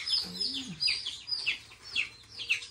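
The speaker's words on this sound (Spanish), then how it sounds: "¿Cómo está cantando el pájaro, man?" A bird sings at a rural village in a series of bright, rising and falling whistled phrases repeated every half second or so, close and clear, with a brief low murmur near the start.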